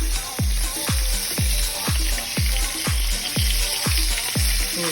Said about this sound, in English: Then once the butter's melted, we're going to baste the steak